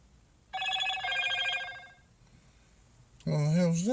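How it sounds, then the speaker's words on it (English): A text message alert chimes on a new Motorola G30 smartphone, a short melodic tone pattern lasting about a second and a half, clear and close, followed shortly by a voice. "I've received a text"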